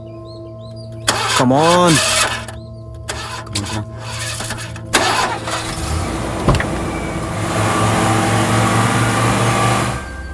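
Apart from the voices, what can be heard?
car engine starting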